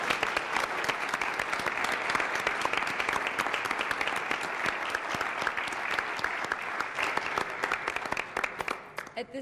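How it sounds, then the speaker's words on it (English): Sustained applause from an audience at a school district board meeting, honoring Illinois State Scholars on stage; dense steady clapping fills the room and fades slightly at the end. "So we'd like to give them one more big round of applause."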